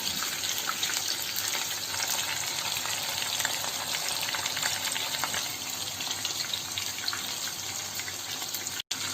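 Chicken Manchurian pieces frying in oil, a dense, steady sizzle that holds at even loudness throughout and breaks only for a moment near the end.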